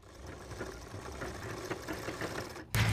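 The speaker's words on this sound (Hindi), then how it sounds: "सबसे पहले हमें यहाँ पर टाँकी लगानी है ताकि हमारी खुले ना सिलाई।" A sewing machine stitches trousers in a quiet, rapid, steady run, ending with a sudden louder burst in the final moment.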